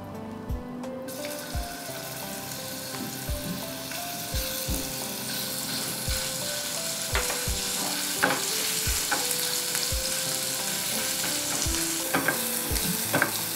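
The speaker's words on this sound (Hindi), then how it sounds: "मसाले को अच्छी तरह भून लीजिए।" Spice paste for tandoori potato masala frying in hot oil, a steady close sizzle rising in loudness, with regular taps and scrapes of a stirring spoon against the pan and no talk.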